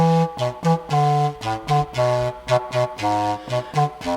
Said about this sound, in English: it's sort of bassoon-like in itself as well, and it sounds like this.